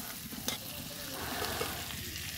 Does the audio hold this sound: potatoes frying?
yes